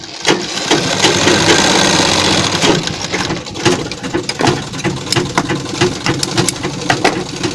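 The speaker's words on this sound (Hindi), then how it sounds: "इस पर हम पहले यहाँ कच्ची सिलाई लगा कर रोक देंगे" A sewing machine runs fast, tacking a loose basting stitch around the neckline of a cotton kurti. The stitching whirs loud, close and unbroken, with the needle chattering quickly and steadily. No one speaks.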